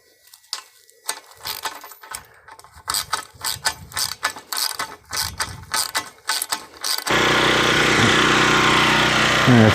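Ratchet wrench tightening bolts on the pipe mount of a cellular signal booster outdoors, rapid close clicking strokes in repeated bursts with short pauses, followed by a loud steady mechanical drone at the end.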